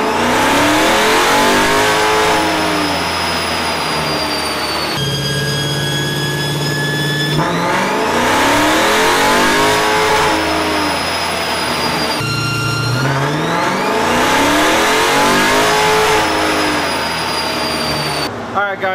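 A B5 car engine revs hard through repeated full-throttle pulls, pitch climbing and dropping at each gear change, loud and close.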